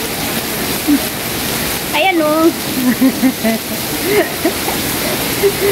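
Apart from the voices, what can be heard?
rain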